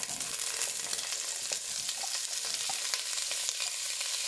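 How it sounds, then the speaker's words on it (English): Carrots sauté in a little oil in a pan, giving a steady, fairly quiet sizzle and crackle throughout, with no talking. "I'm going to go ahead and saute my carrots that I have over here"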